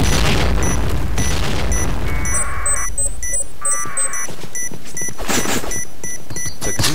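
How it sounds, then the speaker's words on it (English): Video game bomb detonation, a loud booming blast at the start followed by rumbling debris and a string of electronic beeps and chimed interface tones. "Bomb exploded!"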